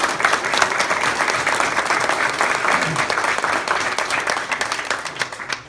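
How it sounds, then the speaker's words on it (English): Applause for Pat, honored with a tribute at an event around the book The Baseball Whisperer: a dense, steady round of clapping from a sizable audience, loud and continuous for the whole span with faint voices mixed in. "I'd just like to give Pat a round of applause"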